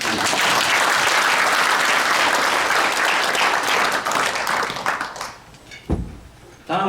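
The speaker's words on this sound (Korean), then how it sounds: "여기 참석하신 분들 자축하는 의미에서 다 함께 큰 박수 부탁드립니다" A hall full of attendees at a Buddhist forum bursts into loud, sustained applause that trails off toward the end. A few scattered claps and a brief thump follow as the room quiets.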